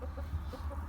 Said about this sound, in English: I've given them to this hen